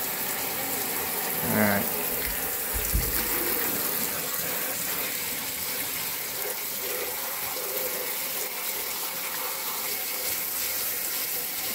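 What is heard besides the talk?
water running while rinsing a part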